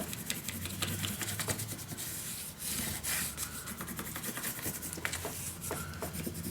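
Paper being burnished down onto a page of a scrapbook mini album, heard as quiet, close rubbing and scraping strokes in an uneven rhythm, faint and without speech.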